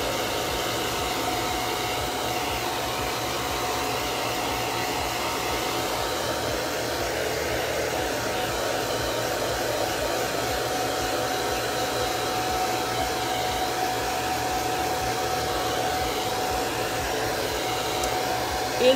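A hair dryer drying chalk ink on a craft project blows with a steady, unbroken whooshing hum, close and constant the whole time with no talk.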